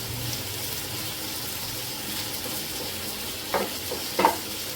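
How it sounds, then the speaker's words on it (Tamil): Prawns sauté in a pan with fresh curry leaves, a soft steady sizzle running underneath with a few louder scraping stirs near the end. "ஒரு 2-3 மினிட்ஸ் அப்படியே வதக்கிக்கிட்டே இருங்க"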